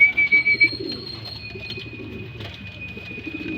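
Racing pigeons coo softly at feeding time, a few low murmuring calls close by with some light rustling and a faint steady whistle-like tone in the background.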